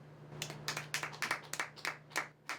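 Sparse, scattered handclaps from a small comedy club audience in Maine, roughly a handful of people clapping in uneven bursts over a low steady hum, with no talking.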